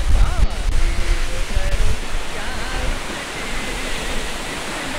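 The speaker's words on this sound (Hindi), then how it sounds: "यहाँ पे पानी का स्प्रे आ रहा है इस वक्त पीछे से, लेकिन क्लोजअप में it's a very beautiful waterfall." Spray and roar of Gufufoss waterfall in East Iceland, a loud, steady broadband rush of falling water that fills the whole clip, with faint voice-like sounds under it.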